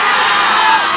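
At a political rally, a large crowd cheers and shouts in a loud, dense, continuous roar that holds steady through the brief moment.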